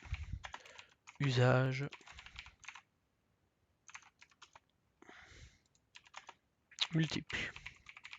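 Typing on a computer keyboard during spreadsheet-style data entry, with quick bursts of keystrokes around stretches of someone speaking French, then brief pauses and a few more close taps near the end.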